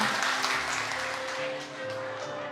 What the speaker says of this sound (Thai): ดิฉันขอเสียงปรบมือดังๆ